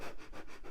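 Flat-faced dog sniffling through its small nose, a quick run of four or five short, close, rhythmic sniffs.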